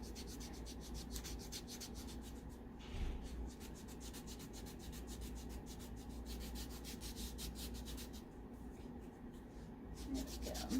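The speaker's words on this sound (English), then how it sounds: "you might need to scrub that second toe area a bit more" Rough skin on a toe being scrubbed during a pedicure, a steady rhythmic rasping rub that repeats close-up through the whole stretch with short pauses.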